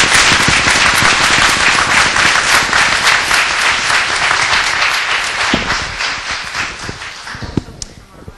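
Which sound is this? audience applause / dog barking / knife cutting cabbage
audience applause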